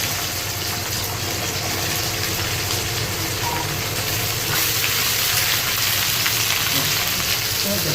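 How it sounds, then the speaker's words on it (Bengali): Onion added to hot oil after chicken has been fried for chilli chicken in a home kitchen, giving a steady loud sizzle and crackle throughout with no talk. "তেলের মধ্যে পেঁয়াজটা দিয়ে দিলাম।"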